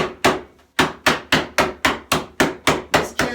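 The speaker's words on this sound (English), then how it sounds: "I'm going to crush the ice" Ice crushed with a mallet inside a canvas bag for a tiki cocktail: about ten loud, evenly spaced hard thwacks, each with a short crunchy decay, close and alone.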